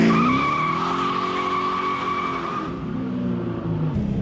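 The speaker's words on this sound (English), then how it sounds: "the exhaust has been modified" A 1996 Mustang GT with a modified exhaust and Hurst shifter revs hard and accelerates in first gear close by, a loud sustained roar with rising tones that briefly drop off before picking up again.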